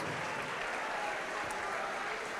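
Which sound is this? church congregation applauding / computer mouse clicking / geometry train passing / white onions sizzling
church congregation applauding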